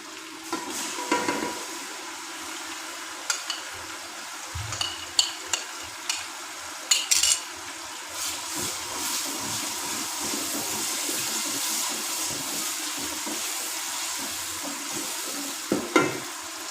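A steady sizzle of tomato and green chili paste frying in a pan, with scattered clinks and stirring scrapes of a utensil against cookware; no voices.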